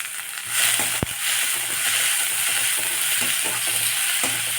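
Finely chopped onions frying in a hot kadai for an ivy gourd curry, a continuous close sizzle with scraping, clinking stirs and one sharp knock early on.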